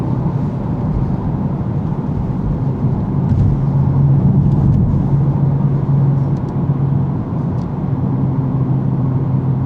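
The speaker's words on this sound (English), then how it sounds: "the burble on the downshifts was so melodious" A BMW M240i with an 8-speed ZF gearbox runs through a British Columbia valley, a deep steady engine rumble heard from inside that swells and settles with a low burbling drone midway.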